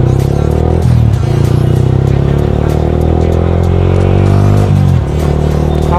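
Motorbike engine droning steadily under a loud ride on a road, with a couple of gear-shift dips in pitch, close and continuous throughout, no talk.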